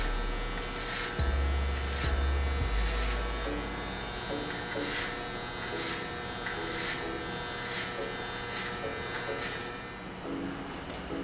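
Electric hair clippers buzz steadily through a clipper-over-comb pass during a fade haircut, a close, continuous motor drone with a faint rhythmic pulsing as the comb moves, heard alone without talk.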